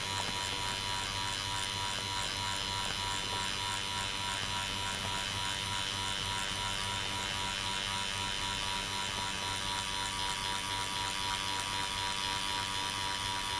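Tattoo machine needle making a quick second pass over skin while packing solid black, a steady close electric buzz with constant whine and no pauses, heard alone without talk.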